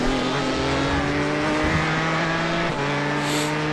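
GTE race car engine screaming at high revs on the Sebring circuit in iRacing, a loud sustained whine with a shifting pitch and a brief dip near the end, no voices.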